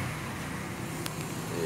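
Steady low engine rumble from the exhaust of a 2005 Toyota Alphard 3.0L idling, close and continuous with broadband hiss, a couple of brief clicks in the middle.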